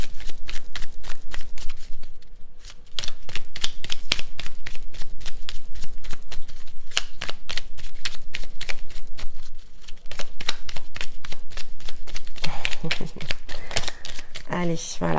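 Oracle cards are shuffled close up in quick, continuous riffles and flicks with rapid rhythmic snapping, while someone speaks intermittently over the sound.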